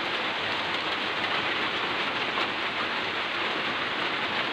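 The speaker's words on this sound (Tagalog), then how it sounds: "Ang ulan na." Steady rain pours down as an even, dense hiss onto surfaces nearby, unbroken for the whole stretch and with no voices over it.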